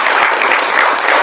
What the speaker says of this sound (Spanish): give a hand to the Lord